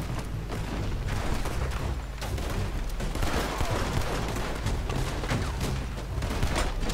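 Repeated loud double-action revolver gunshots and booms in Red Dead Redemption 2, dense and overlapping with a constant rumbling background.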